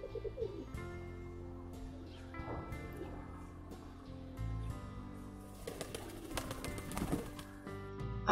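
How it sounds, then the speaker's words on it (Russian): Pigeons coo near a rooftop as a handsome white pigeon flies in. The soft, repeated cooing sits over a steady tonal background, with a few brief wing flutters and chirps. "Сначала прилетел очень красивый белый голубь."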